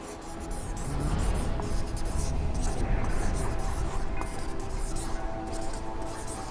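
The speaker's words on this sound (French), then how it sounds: "je vais juste l'écrire comme ça ici" A pen scratches across a notepad page during a magic act on a televised talent show stage, a steady close rasping that runs for several seconds over a background of audience room noise.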